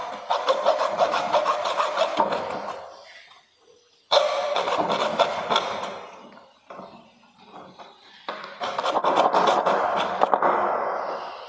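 Hand saw cutting through part of a homemade rocket in three bursts of steady rasping strokes, each separated by a short pause, close and loud with no talking.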